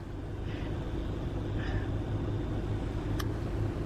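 A vehicle engine pulling a good-sized camper toward the beach, giving a steady, moderately loud rumble with no break.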